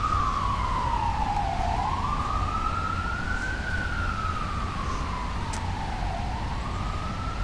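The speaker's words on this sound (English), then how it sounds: "There's an FDNY ambulance." FDNY ambulance siren on a rainy Manhattan street: a loud wailing tone sweeping slowly up and down over two cycles, above steady wet traffic hiss.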